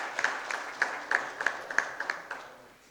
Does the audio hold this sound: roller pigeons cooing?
no